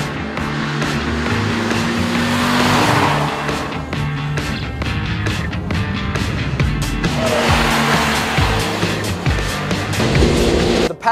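A Renaultsport Clio with a 200 hp 2-litre engine drives at speed, giving steady, loud, close road and engine roar with rushing wind and intermittent thumps and rattles.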